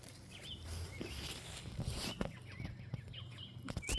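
Chickens in a backyard coop housing a flock of about eighteen birds give soft scattered clucks and short calls over steady low background noise, with a few sharper knocks now and then.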